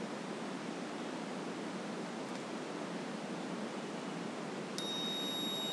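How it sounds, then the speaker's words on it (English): An Arduino buzzer switches on as its push-button is pressed, giving a steady electronic tone with a few harmonics for about the last second, over a constant broadband hiss that fills the whole stretch. "So when switch is pressed, buzzer turns on."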